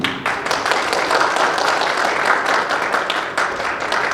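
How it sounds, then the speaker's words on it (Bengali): A church congregation applauding during a Palm Sunday service, a dense sustained wash of many hands clapping at fairly close range, steady from start to finish. "আসুন তাদেরকে আমরা সম্মানিত করি হাততালি দিয়ে।"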